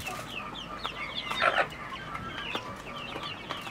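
Farm chickens clucking in a small flock, several overlapping short calls and chatter at moderate distance over a steady outdoor background hum, with no talk.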